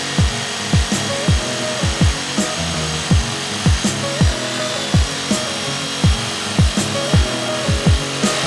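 Steady rhythmic sawing into wooden floorboards indoors, about a dozen regular back-and-forth strokes, each with a sharp rasping scrape, close and loud with no talk.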